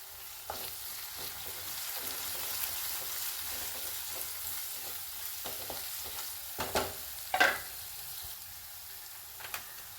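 Beef fry with turmeric cooking in a pan, a faint, low sizzle broken by several sharp scrapes and clatters of stirring, louder toward the end, with no talking.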